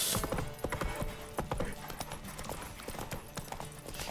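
Horse hooves drum in a fast, steady gallop across ground in The Witcher 3, a busy close clatter of hoofbeats running the whole time with game ambience behind.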